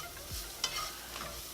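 A flour and sausage grease roux cooks down for gravy, giving a quiet, low sizzle under a few soft scrapes of stirring.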